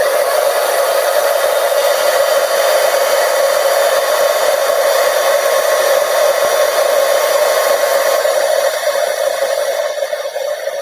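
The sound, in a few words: heat tool for heat embossing a stamped card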